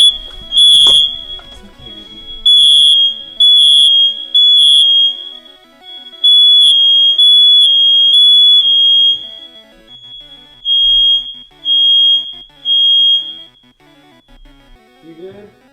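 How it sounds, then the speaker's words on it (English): Several smoke detectors throughout a house go off at once, loud piercing electronic beeps in repeated bursts of three that overlap and persist, with a brief voice and a short thump early on. "all the smoke detectors in my house went off simultaneously"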